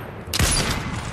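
A sudden burst of gunfire in a battle royale video game, one sharp close shot followed by a short rattling crackle that fades within a second.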